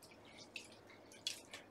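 Brown rice rinsed in water gives faint splashes and drips, a few brief wet spatters standing out over quiet running water with no talk.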